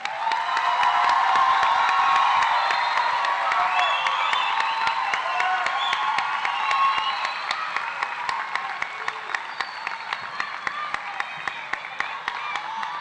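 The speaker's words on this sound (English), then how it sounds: "Let's give our graduates a big round of applause." A large audience at an eighth-grade promotion ceremony applauds and cheers the graduates, with dense clapping, shouts and whoops from adults and children loud at first, then thinning into scattered claps that fade toward the end.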